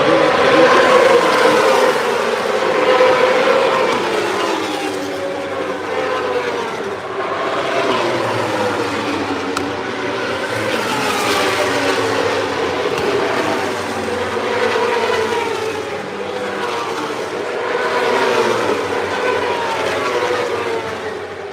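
MotoAmerica Stock 1000 superbikes race around a track. Their high-revving engines swell and fade in repeated loud waves as the bikes pass, over a continuous roar.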